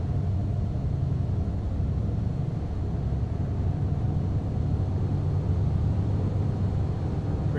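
Twin piston engines of a Cessna 404 running up to 1500 RPM in Flight Simulator X, a steady deep droning rumble that holds constant and loud throughout without any pauses.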